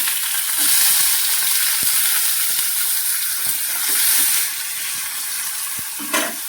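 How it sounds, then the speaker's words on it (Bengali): Onions are added to a pan of already fried garlic for a Mourola fish and cauliflower curry, giving a loud, steady close-up sizzle broken by a few light taps and scrapes of a stirring utensil. "রসুনগুলো ভাজা হয়ে গেছে এবার আমি এই পেঁয়াজগুলো দিয়ে দিচ্ছি"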